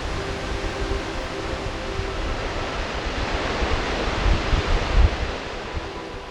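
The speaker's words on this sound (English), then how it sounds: "This is where you can really feel the scale and force of the waterfall." A waterfall in Iceland roars in a steady, broad rush of falling water that swells slightly toward the end, with no voices.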